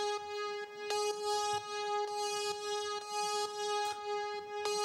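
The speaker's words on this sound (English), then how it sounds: "this new layer comes in, which is like a melodic string layer" Sustained melodic string layer from an electronic song's breaks and build-ups, bright harmonic tones held steadily with soft rhythmic accents recurring about every second, playing alone at moderate volume.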